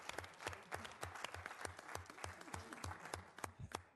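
Applause from people at a city council formal meeting, a steady run of many hands clapping together at moderate distance with no talking over it.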